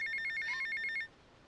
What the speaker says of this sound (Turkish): Ama bir iki bölüm daha şu telefonu duymaya devam edeceksiniz.